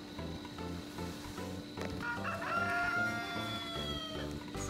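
Backyard chickens cluck in short repeated bursts close by, and a rooster crows partway through, loud and drawn out.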